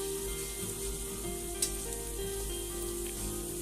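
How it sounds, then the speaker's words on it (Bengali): Beef sizzles in a hot pan for a homestyle beef bhuna while mixed masala is stirred in, a steady frying hiss with an occasional scrape of the spoon and a low background hum. "মশলাটি দিয়ে ভালো করে নেড়ে দিব।"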